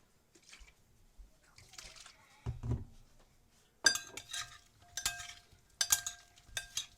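A utensil clinks and scrapes against a bowl as a Thai sausage salad is tossed with chili sauce and fish sauce, in short uneven bursts of clatter with quiet gaps between.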